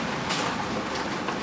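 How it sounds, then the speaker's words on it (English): Rain and hail patter on kitchen skylights in a dense, steady hiss of drops, fairly loud and continuous. "it just sounds kind of cool to be able to hear it, like the rain and the hail like dropping"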